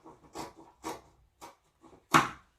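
Scissors cutting through fabric for a high-collar bucket-shape kaftan, a series of short, close rasping snips in uneven rhythm, the last one louder and longer.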